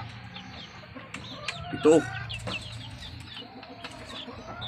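A hen near her eggs gives soft clucks and a brief louder squawk over a steady low hum, while someone speaks briefly nearby.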